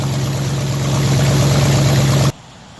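A 1999 Dodge Durango 5.2L V8 4x4 idles loudly and steadily at close range with a constant drone, then cuts off abruptly near the end.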